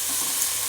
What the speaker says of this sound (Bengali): ছোলা শাকগুলো সব আলু আর শিমের সাথে দিয়ে এবার